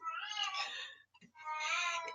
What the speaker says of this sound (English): If you can hear this, that's my cat.